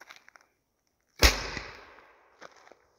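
A homemade DIY potato gun fires one sharp, loud blast that trails off into a fading rumble over about a second, with faint clicks and handling noises before and after.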